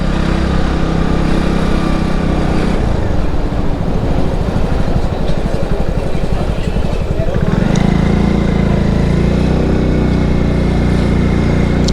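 A motorcycle rides along a mountain road in rainy Uttarakhand, its engine a steady, loud drone mixed with wind and road rumble that changes texture partway through; a voice speaks over the noise.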